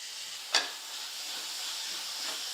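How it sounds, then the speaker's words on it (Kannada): Tomatoes frying in a pan for a besan curry, a steady soft sizzle with one brief louder scrape or stir near the start, then an even hiss continuing alone. "ಇದು ಟೊಮೆಟೊನ ಮೆತ್ತಗಾಗೋರಿಗೆ ಫ್ರೈ ಮಾಡ್ಕೊಳ್ಳೋಣ ರೀ"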